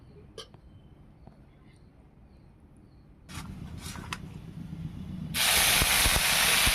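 Large moral fish fry in hot oil in a village kitchen, giving a faint crackle that swells into a loud, steady sizzling hiss.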